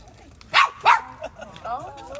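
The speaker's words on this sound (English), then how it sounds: "I think the dog told me to shut up." A dog gives two sharp barks close by, followed by a softer whine-like yip, with people talking around the sounds.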